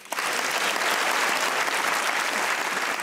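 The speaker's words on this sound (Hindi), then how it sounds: "हैं तो तालियां बजाइए।" Studio audience applause at a comedy talk show, a dense, steady clapping crowd that starts almost at once and holds loud and even throughout with no talk over it.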